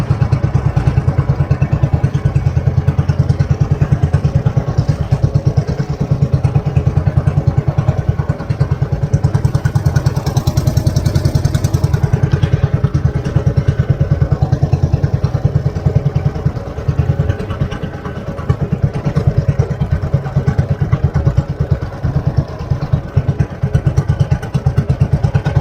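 Fishing boat engine running at sea, a steady loud low drone with clattering and thumping throughout, continuous and close with no pauses.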